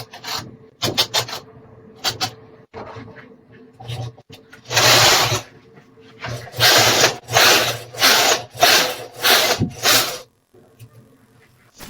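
An SK280 knitting machine carriage sweeps across the needle bed knitting rows of yarn, producing a series of loud rasping, whirring passes in a repeated back-and-forth rhythm, close up.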